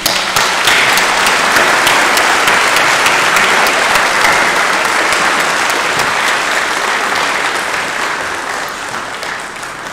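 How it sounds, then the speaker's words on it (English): Sustained applause from a graduation ceremony crowd at a rural charter school, a loud, dense wash of clapping filling the whole stretch and easing slightly toward the end. "please join me in a round of applause for all these amazing people"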